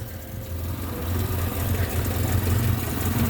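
Engine of a 1964 Ford Capri coupe running steadily, a low rumbling idle that swells slightly as the throttle is opened, heard close and alone.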